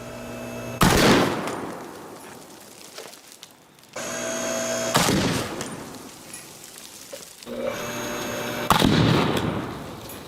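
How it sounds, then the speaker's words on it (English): An indium electrical fuse blowing apart under extreme current, heard as sharp loud bangs at separate moments, each followed by a fading rushing hiss, with quiet gaps between. "I don't think there is a drop of indium left in that fuse. That just completely exploded."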